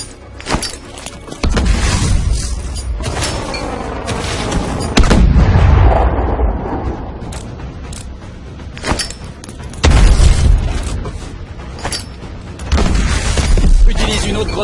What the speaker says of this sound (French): Activation de l'entraînement aux grenades.